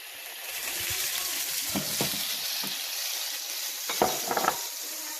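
Green pepper and tomatoes hit hot oil for an oxtail stew, sizzling loudly and continuously, with stirring and a few brief utensil clinks against the pot near the end.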